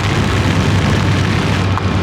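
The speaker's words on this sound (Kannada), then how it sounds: "ಸೊ ಈಗ ಮಳೆ ಸ್ವಲ್ಪ ಜಾಸ್ತಿ ಆಯಿತು" Heavy rain falls on the road to Dharmasthala during a motorbike ride, a loud, unbroken hiss of rain over a low, steady rumble.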